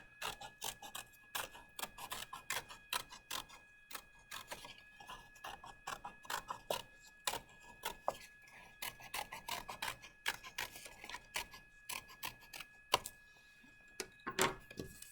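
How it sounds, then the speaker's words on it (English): Scissors cutting a paper circle for a homemade kaleidoscope: quick, irregular snips and crisp paper rustles close up, arriving in short bursts with small pauses between them, and no talking. "Oh, I forgot to cut my circle out. So I'm going to do that right now."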